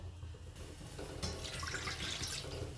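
Water pours and splashes steadily onto a metal plate used as a cooking-pot lid, a continuous hissing gush that grows brighter midway, with no talking.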